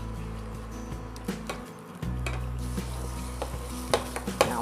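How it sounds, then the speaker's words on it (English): A spoon stirs chocolate syrup mixture for modaks in a pan over heat, with steady scraping and soft bubbling sizzle, a brief quiet gap, then continued stirring with light clicks and taps. "Now keep stirring it till it thickens a bit."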